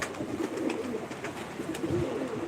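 A flock of pigeons keeps up a constant low, burbling coo, several birds overlapping steadily with faint ambient noise and no speech.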